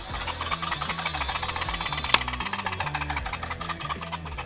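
A small motor newly installed on a bug-out trike runs steadily under a little throttle, giving a close, even, pulsing drone with one sharp click partway through.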